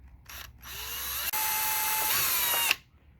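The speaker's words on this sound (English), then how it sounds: "So we start by drilling a hole in it." A power drill drilling into plastic whines loudly up to speed after a brief blip, runs steadily for about two seconds, then stops; close and alone.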